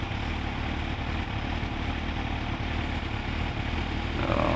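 A motorcycle engine idles close by in a steady, unbroken low rumble that holds level for the whole stretch, with no voices over it.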